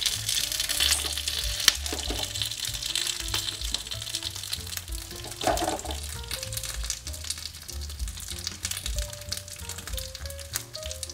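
Japanese gyoza pan-frying uncovered as the last of the water cooks off, a steady close crackling sizzle with scattered pops and a few brief scraping sounds throughout, no talk.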